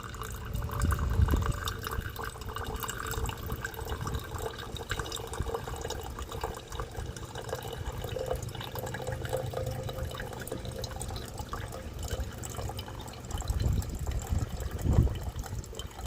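Water running steadily as it rinses silver recovered from silver chloride, a continuous moderate wash of flowing liquid with a few louder splashes near the start and end.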